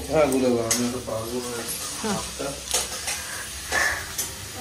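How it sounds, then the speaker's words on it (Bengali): Gram flour (besan) batter with salt and turmeric is stirred and mixed in a bowl, with soft repeated scraping and slapping sounds heard up close while people talk over it. "বেসনটা আমি গুলে দিচ্ছি নাকি?"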